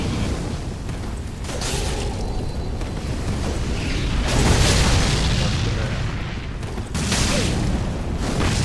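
Explosions in a video game: a continuous, dense rumbling roar of blasts and booms with a few surges in loudness, filling the whole stretch without pause.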